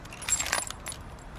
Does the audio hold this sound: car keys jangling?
yes